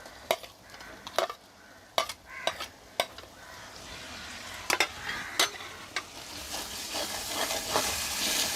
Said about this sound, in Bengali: এর মধ্যে এখন আমি বাটা মশলাগুলো দিয়ে দিচ্ছি।